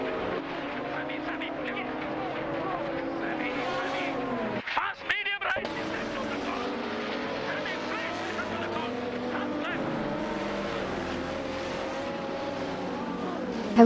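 Tuned Maserati and Ford GT race cars battle in a racing video game, engines droning and revving steadily throughout, with a brief break in the middle, while a commentator talks over them.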